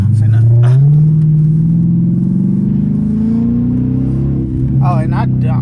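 Straight-piped Dodge Charger R/T driving at night, heard from inside the car as a loud, deep exhaust drone that rises slowly in pitch as the engine revs up, then settles lower toward the end.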